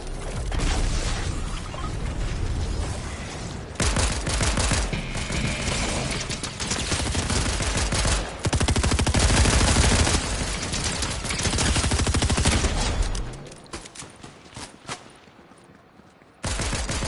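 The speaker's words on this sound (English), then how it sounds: "Someone was just shooting." Sustained, loud gunfire in Fortnite, dense rapid bursts with booms and clattering impacts, dropping briefly near the end before the shooting resumes.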